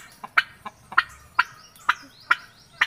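A turkey gobbles repeatedly in short, sharp bursts, about eight rattling calls spaced evenly over a few seconds, fairly close with no talking.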